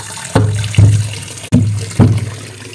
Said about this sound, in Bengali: এবার পেয়ারাগুলোকে ভালো করে জল দিয়ে ধুয়ে নেব।